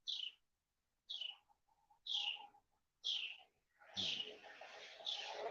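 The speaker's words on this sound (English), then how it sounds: "Listen, can you hear the birds?" A bird repeats short, high chirping calls about once a second, with a softer low cooing note between, in a quiet outdoor setting.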